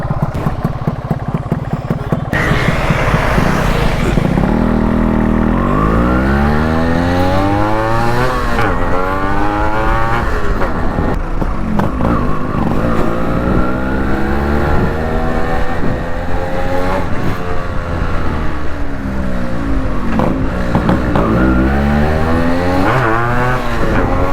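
A Yamaha RXG motorcycle fitted with an inbuilt exhaust chamber on a trial ride, its loud, close engine revving up and down repeatedly in rising and falling sweeps that run without a break.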